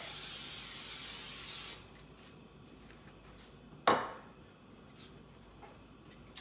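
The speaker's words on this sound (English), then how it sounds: "we are going to add some cooking olive oil spray to the pan" Cooking olive oil spray gives a steady, loud hiss onto a pan for under two seconds, then stops; a sharp metallic clank of the pan follows shortly after in a quiet room.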